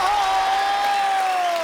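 A TV show studio audience applauding to welcome actress Shilpa Shetty: loud continuous crowd clapping and cheering with a sustained musical tone running over it.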